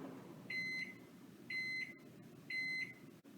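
Three evenly spaced electronic beeps, each about a third of a second long, from a microwave heating macaroni, sounding fairly close over a low steady hum of the running oven.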